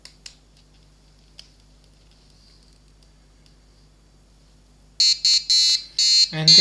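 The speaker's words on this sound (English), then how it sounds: "And this is the second alarm." An RTC melody alarm bursts in after several quiet seconds of near silence with a few faint clicks, sounding as loud, bright electronic beeps in quick repeated pulses before a lower tone.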